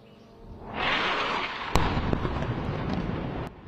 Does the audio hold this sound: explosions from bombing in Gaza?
yes